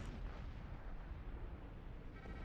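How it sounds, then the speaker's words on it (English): Big explosion in a space combat video game: a dense, rumbling low boom that rolls on continuously, loud and without pause, with no talking over it. "That was quite an explosion."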